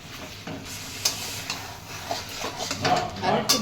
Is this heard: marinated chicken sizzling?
yes